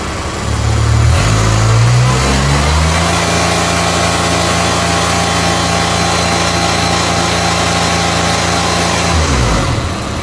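Kubota RTV X1140 utility vehicle engine revs up from idle to full throttle in neutral with two-wheel drive, holds a loud, steady, close drone for several seconds, then drops back toward idle.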